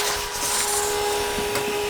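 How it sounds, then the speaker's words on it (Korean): A vacuum cleaner runs steadily indoors as someone pushes it around a home during housework, producing a constant close whine with a sustained tone, with small bumps of movement and no talking. "구석구석 청소기를 미는 폼이 예사롭진 않네요."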